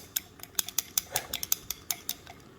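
A rod stirs a solid in a glass test tube to dissolve it, giving a quick, irregular series of light clinks and taps against the glass, close and fairly faint, with no talking.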